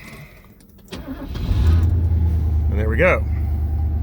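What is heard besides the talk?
1981 Mercedes 380SL engine starting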